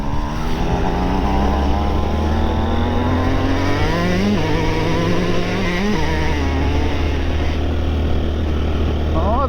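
Honda XR 190 L motorcycle engine droning loudly and steadily while climbing a forest hill in third gear, with pitch rising and falling slightly as it pulls; no voices.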